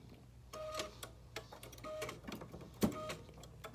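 A sewing machine's automatic needle threader works after its illuminated button is pressed, giving faint, quiet mechanical ticks and small clicks with a brief sharper clack near the end.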